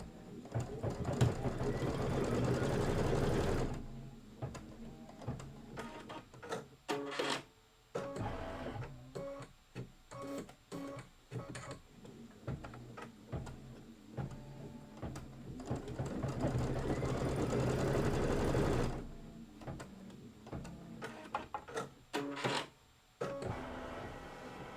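An embroidery sewing machine stitches a trim placement line, a steady mechanical whirring punctuated by rapid clicking and stepping motor bursts, with louder dense runs at the start and near the end, close and alone.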